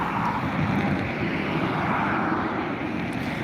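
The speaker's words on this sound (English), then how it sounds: "Taxiing to the runway over there in front of you is the Aer Lingus A320 heading over to Seville" A 17-year-old Aer Lingus Airbus A320 jet taxis toward the runway at Dublin Airport, its engines giving a steady, even roar with a broad rumble that holds unchanged throughout, with no voices.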